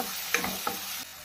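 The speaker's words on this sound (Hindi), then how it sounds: "अब इन सारी चीज़ों को हम भून लेंगे।" Spices such as turmeric and Kashmiri red chili sizzle in a hot pan for palak dal makhani, with a steady frying hiss and a couple of light spoon-stirring scrapes close by.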